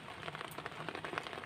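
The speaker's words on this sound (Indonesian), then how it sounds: "masih hujan ya" Rain falls steadily on surfaces outdoors, a soft, diffuse patter with scattered drop hits, fairly faint and continuous with no voices.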